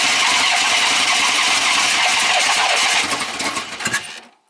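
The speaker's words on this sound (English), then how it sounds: "we're gonna go ahead and see if we can get the thing started" A 1994 Chevy truck with a suspected transmission problem cranks and roars to life. The loud, rough engine runs steadily close by, then dies away at the end.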